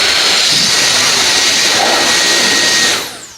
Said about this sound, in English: you can use this jet blower